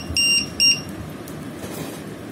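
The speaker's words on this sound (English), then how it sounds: "As the voltage drops down, the alarm starts beeping." Two shrill electronic beeps from a LiPo battery tester's low-voltage alarm sound in quick succession, high-pitched and piercing, over a low constant hum.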